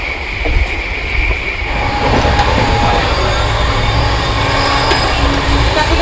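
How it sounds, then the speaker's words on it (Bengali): A passenger train runs through open rice fields between Kolkata and Mathura, its wheels and carriages rumbling steadily and loudly from the inside, with faint squeals and rhythmic clatter over the tracks. "মাঝখান থেকে ট্রেন আমাদের ছুটে চলেছে"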